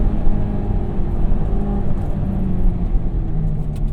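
A 2001 Honda S2000 AP1 with a cable throttle runs loud and close, its engine holding a steady, dense rumble with a slight rise in revs and no speech over it.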